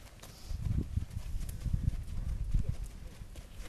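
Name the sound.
horse hooves clip-clopping during test ride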